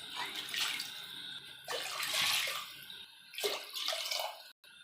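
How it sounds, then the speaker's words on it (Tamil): Water, about three glasses, poured into a hot pan of caramel on the stove, in several gushing bursts of splashing and sizzle separated by short pauses. "அதில் ஒரு 3 கிளாஸ் தண்ணி சேர்த்துக்கலாம்"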